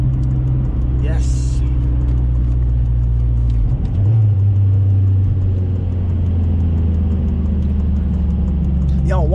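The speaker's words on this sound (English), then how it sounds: "This car sounds so sick." Turbocharged Si car idling and revving in winter, a deep steady engine drone with a brief rise midway, while people talk over it.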